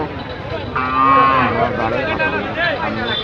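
A cow moos loudly at a busy cattle market in Sylhet, a single drawn-out call over steady crowd chatter and nearby talking voices.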